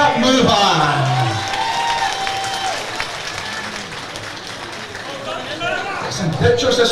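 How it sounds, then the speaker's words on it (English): Crowd applause and cheering at an all-female boxing show, sustained clapping across the clip while an announcer's amplified voice speaks over it. "Ladies and gentlemen, please keep your applause going for our opponent"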